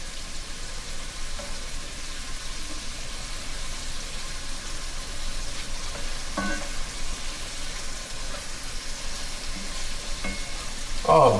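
Shrimp sizzling and frying in a pan for Cajun Alfredo, a steady dense crackle throughout with occasional clicks as pieces are flipped, close and continuous with no talking.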